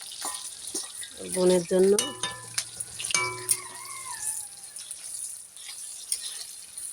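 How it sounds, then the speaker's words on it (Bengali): Noodles cook in a pan over a home stove, with bursts of sizzling and stirring, clinks of a utensil and some running water, while a voice speaks briefly nearby. "এই যে আমার বড় মেয়ে নুডলস রান্না করতেছে"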